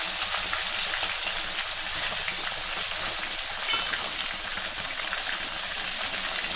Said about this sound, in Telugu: ఎంచక్క 2 సైడ్ల ఫ్రై అయ్యే వరకు ఫ్రై చేసుకోవాలన్నమాట.